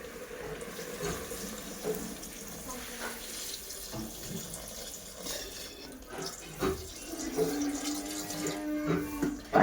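Water running and splashing into a pot with goat leg bones for mutton bone soup, a steady continuous pour with faint clinks, fairly close and moderately loud.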